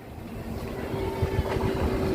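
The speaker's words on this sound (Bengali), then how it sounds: "ওই দেখো ট্রেনটা ঢুকছে" A train rumbles into a station platform in a low, building drone with a steady tonal whine and rising mechanical thuds, heard close.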